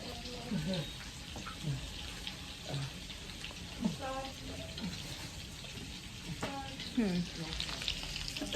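Cheeseburger patties fry in a pan with a constant soft sizzle, faint and close, with occasional voice fragments over it.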